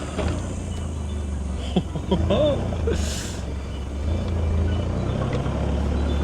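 A car drives through the Reynolds River East water crossing in Litchfield National Park, Northern Territory, with a low engine rumble and a brief splash midway. Excited voices talk over it.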